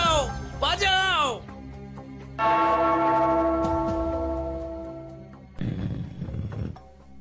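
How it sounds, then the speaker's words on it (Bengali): A bell rings inside a cartoon cave with a sustained, slowly fading metallic tone. Louder cartoon vocal sounds come before it, and voices follow. "ওই ঘন্টাটা বাজাও, বাজাও।"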